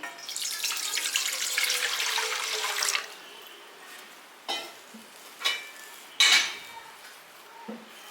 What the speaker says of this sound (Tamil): இட்லி பாத்திரத்தில் கொஞ்சம் தண்ணி ஊற்றுக்கிறேன்